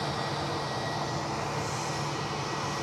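A Cessna 525B Citation CJ3 Plus business jet at Edinburgh airport gives a steady, even engine roar that holds at one level throughout, with no voices.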